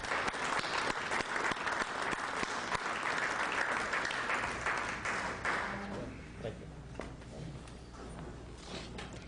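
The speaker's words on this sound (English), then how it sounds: "could we have a warm round of applause for Bill Thornton" An audience in a Greek Orthodox Church breaks into warm applause for Bill Thornton, with dense, sustained clapping that fades to scattered claps and room noise toward the end.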